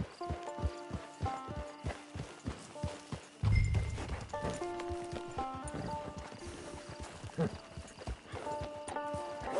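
Horse hooves clip-clop in Red Dead Redemption 2 near a camp, a steady rhythmic series of sharp hoof knocks at walking pace, joined midway by a louder burst of movement, with game music and a voice speaking over it.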